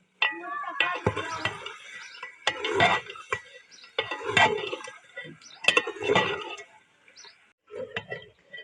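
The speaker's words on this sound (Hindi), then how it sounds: "लेकिन 2-4 मिनट इसे मैं मज़ीद भून लूँगा" Desi chicken fries in a karahi with little oil, stirred with metal utensils that scrape and clink against the pan in irregular bursts, with brief pauses between strokes.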